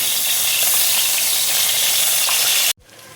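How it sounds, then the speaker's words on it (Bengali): Ground spice paste hitting hot oil left from frying rohu fish, a loud, steady sizzle and crackle lasting nearly three seconds before cutting off abruptly, with nobody talking. "মাছ ভাজার তেলেই দেখো এবার আমি বাটা মশলাটা দেখো দিয়ে দিচ্ছি"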